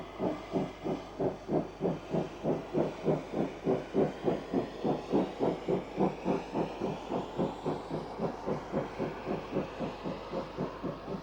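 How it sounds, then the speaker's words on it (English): South African Railways class 15F steam locomotive number 3016 hauling a regularly scheduled train near Tarleton, its exhaust beating in a steady, even rhythm of loud chuffs that slowly fade with distance, with no voices. "A regularly scheduled train behind 15F 3016 crosses the Union Limited at Tarleton"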